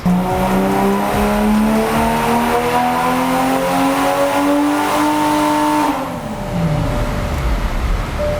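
Toyota Supra A90 fitted with an AEM intake runs a dyno pull, engine note climbing steadily to a loud, close high-rev peak before abruptly dropping off as the throttle closes.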